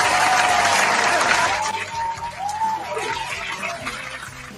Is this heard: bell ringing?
no